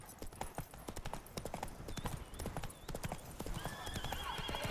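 The video game horse Roach gallops in a quick, steady clatter of hoofbeats at close range, with a short whinny and some faint background game sounds.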